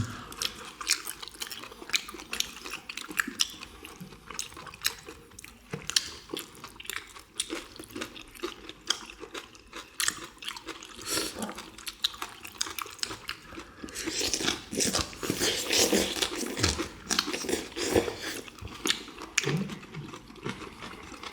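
Grilled beef intestines (makchang) are chewed close to the mic, with continuous crunchy, squelchy mastication that is crisp outside and chewy inside, growing louder toward the end and with no voices.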